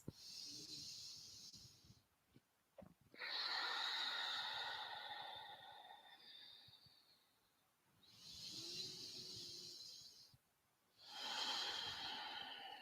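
Slow, deep breaths during a gentle yoga session, each long airy exhale through the nose or mouth rising and fading in a steady rhythm, heard up close with quiet pauses between.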